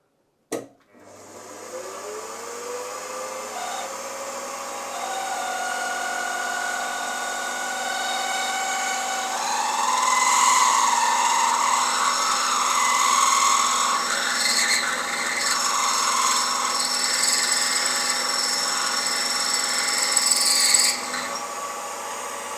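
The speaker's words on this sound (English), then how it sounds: "I'm going to open it up with this 3/8 of an inch drill bit" A 3/8-inch drill bit bores into the cylinder head of a Farm Boy hit-and-miss model engine, a continuous whining machine tone that rises in pitch and intensity midway and cuts off sharply near the end.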